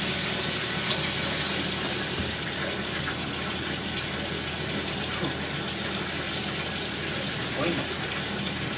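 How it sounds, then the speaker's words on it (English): Water rushes and pours continuously into a tank at a steady level, a constant gushing fill with a faint mechanical hum behind it. "So, filling it slowly to have something to dump."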